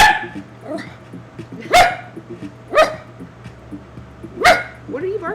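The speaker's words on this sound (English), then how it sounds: "what are you barking at this point? At this point, what are you barking at?" A dog barks in a few sharp, separate yaps spaced about a second apart, fairly close, with quiet background sounds between barks.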